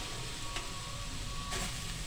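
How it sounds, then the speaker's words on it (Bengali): Pangas fish frying in a pan without added oil, cooking only in its own belly fat, gives a steady close hiss and sizzle throughout with a couple of brief louder crackles, and no one speaking. "আজকে তেল ছাড়া পাঙ্গাস মাছ ভাজা"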